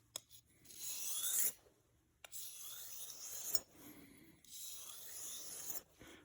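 A cheap knife blade honed to remove a burr: long, steady rasping strokes across the edge, about four passes with brief pauses between, close and quiet.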